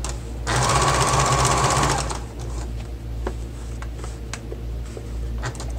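A sewing machine top stitches the seams of a Moroccan style storage ottoman in one fast, close burst of about a second and a half, followed by quieter handling clicks and a low background hum.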